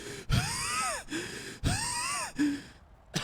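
A voice imitates wheezy, strained breathing through a mask, with a few drawn-out rasping gasps separated by short pauses, close and fairly loud.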